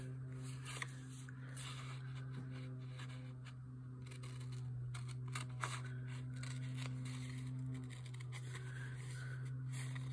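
Scissors snipping paper inside a journal, a steady run of soft close clicks and cuts over a constant background hum, with no talking.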